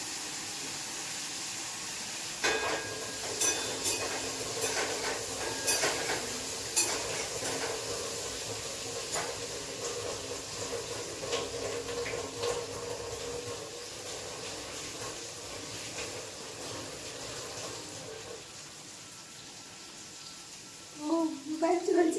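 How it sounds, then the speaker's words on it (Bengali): Bitter gourd and okra fry in a pan with a steady soft sizzle throughout, broken by occasional stirring scrapes and clinks of a utensil, with a few sharper pan knocks near the end. "উচ্ছে আর ঢেঁড়স ভাজা বসিয়েছি, উচ্ছে ভাজা হতে থাক"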